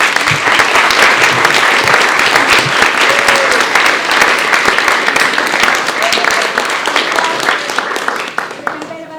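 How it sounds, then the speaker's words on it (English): Loud crowd applause at an evening pitch competition for farm and food businesses, dense clapping with scattered cheers and some voices mixed in, tapering off near the end. "let's give these guys one more round of applause."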